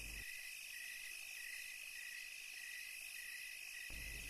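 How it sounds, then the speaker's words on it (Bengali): Crickets chirp steadily at night in a cartoon sound effect, a continuous high-pitched trill with a faint pulsing rhythm that holds throughout alone. "বাহিরে শিরশিরে বাতাসের মধ্যে শুধুমাত্র ঝিঝি পোকাগুলো বেসামাল ভাবে ডেকেই চলেছে"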